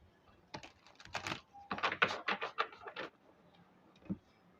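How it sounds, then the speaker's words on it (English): A deck of tarot cards being shuffled by hand, soft papery riffles and flicks in quick irregular bursts, faint and close, with a quiet pause before one last tap. "I'm just shuffling these cards for pile number 2."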